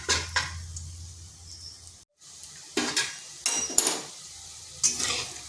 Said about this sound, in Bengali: এইভাবে আমি সবগুলো ভেজে নিচ্ছি